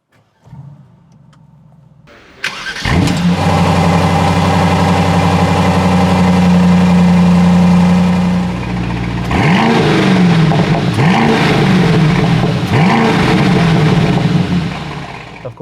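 Aston Martin DBX 707 SUV engine starts after a quiet moment, then runs loud and steady close by with a strong low drone, ending in a few quick revving blips.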